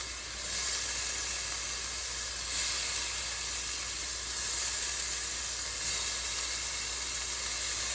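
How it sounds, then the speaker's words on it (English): Shrimp searing in a hot pan for shrimp alfredo give off a steady, loud sizzle and hiss that holds throughout without a break, with no voices over it. "I'm just gonna go ahead and sear my shrimp"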